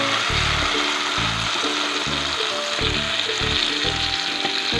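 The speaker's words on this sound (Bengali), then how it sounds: "তো এরপর আমি যে কাঁঠালের দানার পেস্টটা করে রেখেছিলাম সেটা আমি এর মধ্যে দিয়ে দিচ্ছি।" Jackfruit seed paste sizzles steadily in melted ghee over a low gas flame for a sweet barfi. A loud, continuous fry with a low rhythmic clatter of stirring or scraping underneath.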